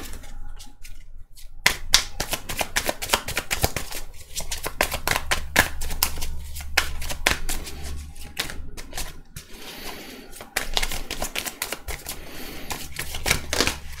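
Tarot cards being shuffled and drawn for a reading make a loud, close, continuous riffle of dense flicking clicks. The sound runs in long bursts with a few brief pauses, and nobody speaks.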